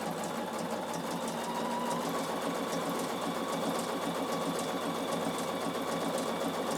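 A Bernina sewing machine runs stitch 1331, a straight stitch with a small zigzag like a blind hem, as a fast steady mechanical whir with rapid even needle ticking, close and continuous without pause.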